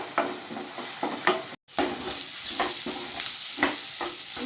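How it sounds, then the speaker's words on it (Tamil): Peas and boiled vegetables being stirred and fried in a pan for lemon rice, a quiet continuous sizzle with repeated spatula scrapes and taps, close by with no talking. "பட்டாணி, வேக வச்ச காய் போட்டு நல்லா மிக்ஸ் பண்ணுங்க"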